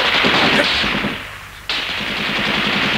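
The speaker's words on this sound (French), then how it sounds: "C'est pas facile de se procurer une mitraillette." Machine gun fire in a French radio drama, a sustained loud rattling burst that dips briefly before resuming at full force, close and dense, with no talk over it.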